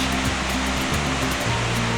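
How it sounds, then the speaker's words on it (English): A 126-foot waterfall plunges from a Navajo sandstone cliff in a Utah canyon, a steady, dense roar of falling water, loud and unbroken throughout with no voices. "At last she reached the place where the creek leapt from the cliff, the great 126-foot waterfall"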